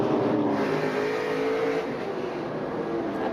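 Race cars roaring around the Knoxville Raceway dirt track, a dense continuous engine drone with loud rising and falling revs as the pack runs close together.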